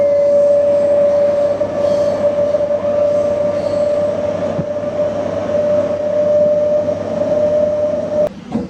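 A MEMU passenger train on the Vijayawada–Bhadrachalam line rumbles along loudly with a sustained steady tone and rolling wheel noise, heard from inside the train without talk.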